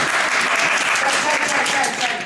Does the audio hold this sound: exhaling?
no